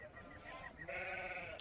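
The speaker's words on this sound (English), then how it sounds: "What meaneth then this bleating of the sheep in mine ears" Sheep bleating in a short burst of layered, wavering cries, fairly close and moderately loud, with a second higher bleat joining partway through and a sharp click at the very end.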